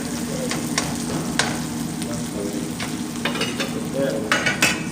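Cloves, green cardamom and spices frying with browning onions in a pan make a continuous close sizzle, with clinks and stirring scrapes on top and no talking.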